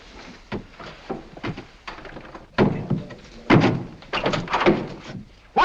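Several dull knocks and thumps sound at irregular intervals, some louder and clustered together, from steam knocking in indoor water pipes.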